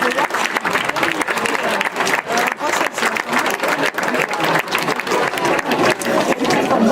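Audience applauding at a children's Christmas snack party for a football club, steady dense clapping filling the room, loud and sustained throughout, with scattered voices mixed into the crowd noise.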